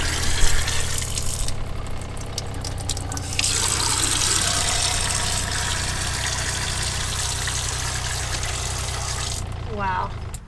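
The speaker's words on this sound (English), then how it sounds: "cheap water pump versus good water pump" A water pump in a DIY van conversion water system runs steadily with a constant low hum under rushing, faucet-like flowing water, continuous throughout and fairly close, with voices faintly audible at times.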